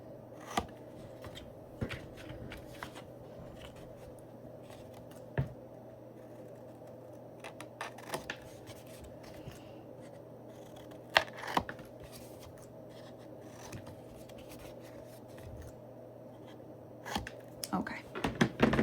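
Scissors trim the edges of paper while making a strawberry folio, a few quiet scattered snips and paper rustles over low room hum, with someone speaking softly at times.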